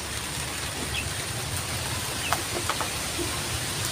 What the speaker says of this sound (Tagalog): Pumapatak na yung ulan. Medyo ano lang, hindi naman malakas.